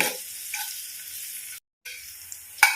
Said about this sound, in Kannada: ಇದು ಕೂಡ ಹಾಗೆ ಈರುಳ್ಳಿ ಬೆಂದ್ರೆ ಸಾಕು ಕೆಂಪಾಗುವಷ್ಟು ಫ್ರೈ ಆಗಬಾರ್ದು